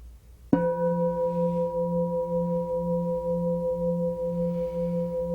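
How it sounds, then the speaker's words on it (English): A meditation gong is struck once and rings on in a sustained, pulsing, harmonic hum that slowly wavers in level, steady and moderately loud with no voices. "Allow the tones of the gongs to simply wash through you."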